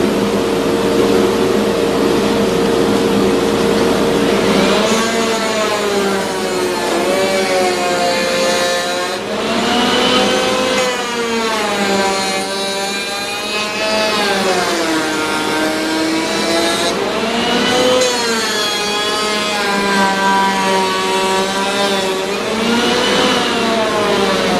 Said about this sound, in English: It's going to get noisy. I'm going to turn on the dust collection.